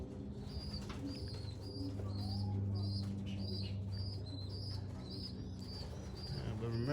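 A racing pigeon comes in at a loft after a 100-mile training toss, with soft repeated cooing and brief wing flaps against outdoor background noise, while a person talks quietly nearby.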